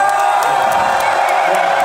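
A packed concert crowd at a show at Forum Karlin in Prague cheers and whoops loudly and steadily, a dense wall of voices with scattered shouts throughout.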